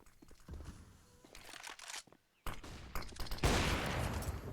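Rapid bursts of gunfire in a Counter-Strike match on the Inferno map, loud and close, with crackling volleys, a brief silent gap, then a dense roar of shots.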